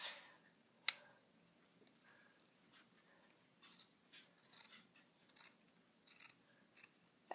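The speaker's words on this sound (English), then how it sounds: "Just going to trim it to make it fit." Scissors snip through spare fabric while trimming a no-sew doll dress to fit, a run of quiet, crisp cuts coming in short irregular bursts close by, with one sharper click near the start and no voices.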